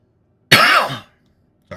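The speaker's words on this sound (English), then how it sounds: "A little cough yet." A single short cough with a throat-clearing rasp, close and fairly loud, lasting about half a second before silence, with the start of another sound clipped at the very end.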